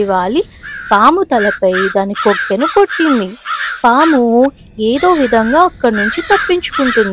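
Loud, close crow caws repeated in quick bursts through much of the scene, a crow attacking a snake at its nest, heard alongside a narrating voice.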